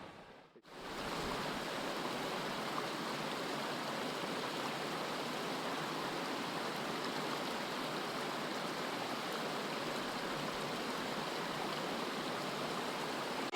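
A stream runs through the Scottish wilderness along the Cape Wrath Trail, its water rushing in a steady, loud broadband wash that carries on unbroken after a brief quiet start.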